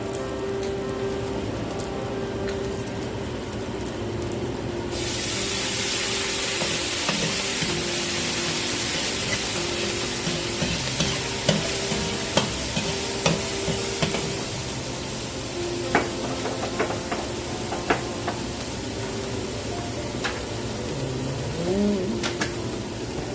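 Onion frying in coconut oil in a home kitchen, a steady loud sizzle that jumps up after about five seconds and continues with small pops and spatters throughout.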